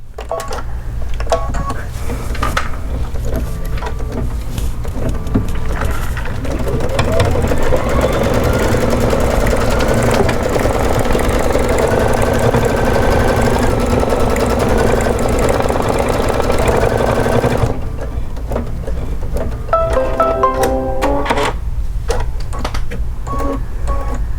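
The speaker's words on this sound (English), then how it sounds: "we're going to put it back onto our machine, and it's going to do a decorative stitch to tack down that fabric one more time" An embroidery sewing machine stitching a decorative stitch on fabric, running loud and close with a fast, steady mechanical whir and rapid needle clatter, briefly pausing near the end before resuming.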